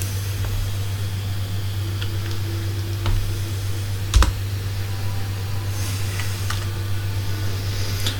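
Sparse, irregular keystrokes on a computer keyboard tick quietly over a loud, steady hum, with one sharper clack near the middle.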